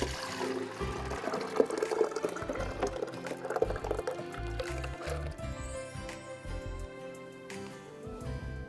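Thick boiled lentils glug and splash as they are poured into a blender, wet sloshing sounds continuing for several seconds, close by and without speech.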